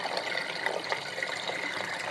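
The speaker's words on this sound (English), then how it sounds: "You see the water flowing?" Water rushes and gurgles steadily through the open pipes of an Eshopps overflow box plumbed to a Fiji-24 cube reef tank sump, a continuous close hiss with no lid covering it.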